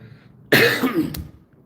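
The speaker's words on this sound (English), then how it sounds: "still got my cough" A single harsh cough bursts out close by, followed by a short rasp of breath before quiet returns.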